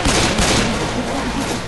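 Continuous rapid gunfire from Left 4 Dead 2 co-op play, dense overlapping shots rattling loud and close for under two seconds, with voices faintly mixed in.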